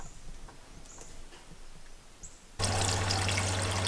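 Water spurting and pouring from a leaking motorhome water pump, starting abruptly partway through as a loud, steady gush with a low pump hum beneath, after a quieter stretch of faint background noise.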